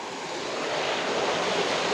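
A small waterfall along a forest trail at a campsite in Taquaruçu pours in a steady, even rush of water, close and continuous, with no voices.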